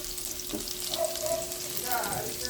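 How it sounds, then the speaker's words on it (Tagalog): Garlic is sautéed in oil in a pan for Filipino chopsuey. A close, steady sizzle runs throughout, with a couple of brief stirring scrapes. "magigisa na kami ng bawang sibuyas. Gisa-gisa ng bawang."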